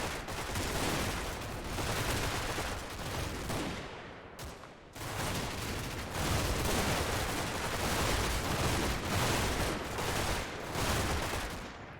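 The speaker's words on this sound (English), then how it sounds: "rush forward into absolutely just an abundance of German machine guns" Dense, continuous machine gun fire in the WW2 game Combat Mission Battle for Normandy as German guns cut down advancing American airborne troops, a loud crackling barrage with only a brief break partway through.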